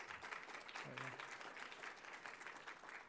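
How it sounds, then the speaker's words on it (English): Audience applause at a NeurIPS 2018 research workshop, steady broadband clapping filling the whole stretch at moderate level, with a brief voice-like tone partway through. "Big applause, please, for all the oral and poster presenters who've been present with us today."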